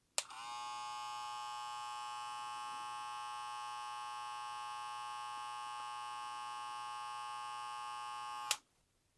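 A Gamma+ Shorty hair clipper motor runs alone for about eight seconds, a steady, even electric buzz with a sharp start and a clean stop.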